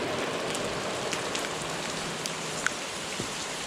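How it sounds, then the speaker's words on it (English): Heavy rain during a thunderstorm, a dense steady roar of drops pattering on surfaces with a few sharper individual hits, close and loud throughout with no voices. "It's raining cats and dogs. It's thundering and lightning."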